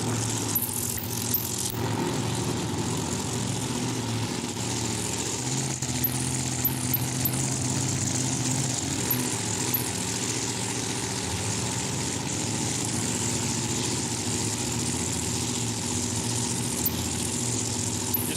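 Supercharged nitro funny car drag racing engines idle at a dragway, giving a steady, throbbing low drone that stays fairly even and moderately loud throughout with no voices over it.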